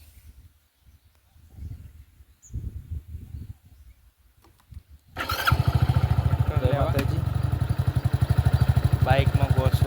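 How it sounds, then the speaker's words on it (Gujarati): A motorcycle is started on a farm trip, then idles with a loud, steady pulsing engine throb close by; before the start, a person talks quietly and there are scattered faint noises. "બાઇક ચાલુ કરી."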